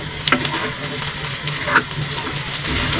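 Taro stolons frying with shrimp and spices give off a continuous hiss and sizzle in the pan, with a few sharp scraping strokes as they are tossed. The sizzle swells louder near the end.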